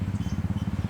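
A motorcycle engine throbs low and fast, its regular exhaust pulses beating evenly at moderate volume for under a second.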